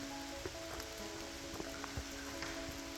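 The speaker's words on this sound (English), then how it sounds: "It is a rainy day in PA." Light rain falls in a forest in Jakey Hollow Natural Area, Pennsylvania, as faint, scattered drips and soft patter over a low steady hum, quiet and sparse.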